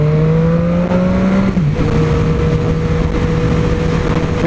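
A Triumph Street Triple 765R motorcycle pulls hard under acceleration, a loud close engine note rising steadily, briefly dipping at a gear change, then climbing again with no voices.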